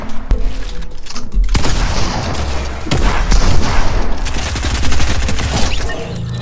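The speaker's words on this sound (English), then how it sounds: "I'm going to no-scope you in the face." Gunfire fills a Fortnite match, with a quick sniper no-scope among rapid bursts of shots and sharp booms that crackle loudly and nearly without pause, while a voice talks underneath.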